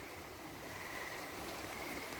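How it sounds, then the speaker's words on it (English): Fast-flowing floodwater in Ohio rushes past in a steady broadband roar, continuous and unbroken, heard from a short distance with no voices. "that is a lot of water, and it's going really fast"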